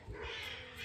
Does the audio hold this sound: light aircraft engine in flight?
no